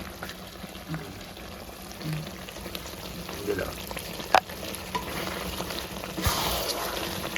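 Pickle gravy sizzles and fries in a pan while being stirred, with soft scraping and an occasional clink, fairly close and steady, with a brief voice now and then.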